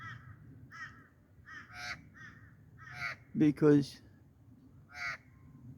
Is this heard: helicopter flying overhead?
no